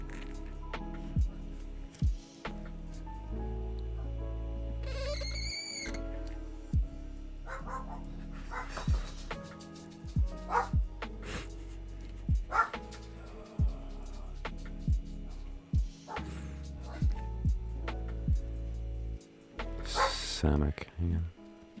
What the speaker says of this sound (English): I think I just made my dog bark by squeaking my marker